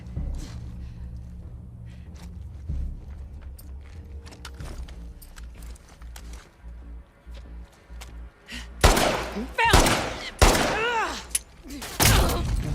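Gunfire in a video game, a string of sharp shots that builds into loud, dense bursts toward the end, with footsteps and thuds in the background.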